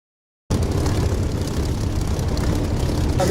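Spitfire aircraft engines in the DCS flight simulator game cut in abruptly as a loud, steady propeller drone that holds at constant strength, with no voices over it.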